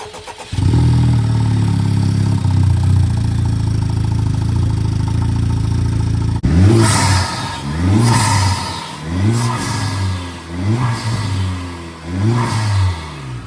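A Honda Civic Type R FL5 fitted with a PRL turbo inlet pipe cranks and catches, settles into a loud steady idle, then takes a series of sharp, rising revs that fall back between blips, heard close with no talking.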